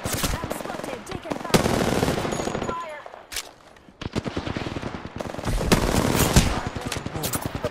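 Gunfire in the video game Apex Legends: loud rapid automatic bursts, a short quiet gap, then renewed sustained firing with crisp repeated shots.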